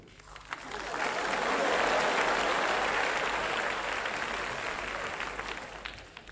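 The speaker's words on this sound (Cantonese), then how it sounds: "即係我哋香港人拍手掌咧" An audience at a 1999 Hong Kong stand-up comedy show breaks into applause, a dense wash of clapping that swells within a second, stays full for several seconds and then gradually thins out.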